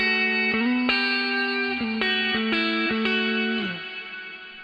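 Guitar chords through a Quilter Steelaire amplifier's reverb with the tone knob turned up, a bright, sizzly tail ringing under several struck chords before dying away at the end, loud and without speech.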